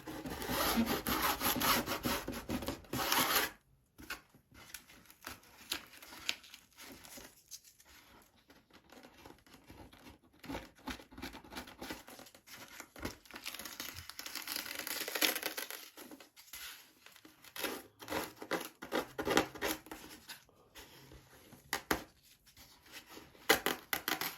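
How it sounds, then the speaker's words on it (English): Hand-sanding a fiberglass edge with 80 grit sandpaper on a Top Flite .60 size P-40E Warhawk model, a close, irregular series of scratchy rasping strokes with brief pauses between. "I like to take the 80 grit and just kind of score that edge."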